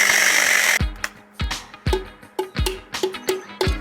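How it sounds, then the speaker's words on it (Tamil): Masonry drill bit boring through a clay pot, starting with a steady high whine, then a run of sharp, rhythmic grinding bursts as the bit bites repeatedly into the fired clay, close and loud. "சுவரில் ஓட்டை போடக்கூடிய ட்ரில் பிட் இது."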